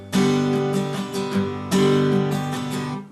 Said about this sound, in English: I was just keeping going lightly across the strings, but what you heard was bom, da.